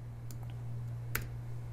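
A single computer keyboard key press, a sharp close click with a second fainter tap, over a steady low electrical hum, no talking.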